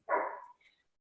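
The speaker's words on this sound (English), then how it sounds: "I apologize for my dog that's barking." A single sharp dog bark, close and fairly loud, followed by a fainter high yip or squeak, heard alone without talk.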